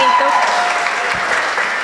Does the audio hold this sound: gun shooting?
no